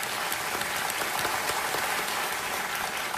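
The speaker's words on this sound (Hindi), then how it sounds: "तालियों के साथ आपका बहुत बहुत स्वागत" Studio audience on a quiz show clapping to welcome a contestant and her family, a dense even patter of many hands that stays constant throughout.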